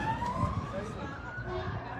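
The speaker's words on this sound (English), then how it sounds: "I can hear sirens again. There's a Fire engine." A fire engine siren wails in a street in Hull, a steady faint tone gliding up and down over the traffic rumble, heard from some distance.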